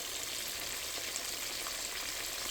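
Catfish fillets frying in a pan with a steady, close hiss of oil that holds even from start to finish, with no pops standing out and no voices.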